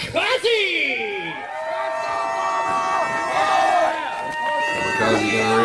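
Wrestling crowd at a backyard deathmatch reacting to the entrance of champion Kamikaze, loud cheering and whooping throughout with a voice speaking over it.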